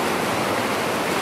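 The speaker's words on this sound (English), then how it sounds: "Rinse it off in the water." Flowing stream water rushes loudly and steadily as a cleaned trout is rinsed in a Sierra backcountry creek, a dense close splashing wash with no talking.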